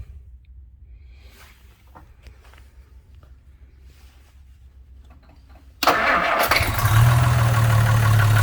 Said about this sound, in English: Going to do a cold start on the Jaguar Mark 9.